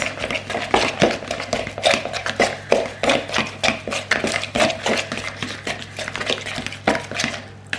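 A spoon stirring a banana mixture in a bowl for a Slimming World recipe: repeated soft scraping and clinking strokes in an irregular rhythm, close up and moderately loud, with no talking.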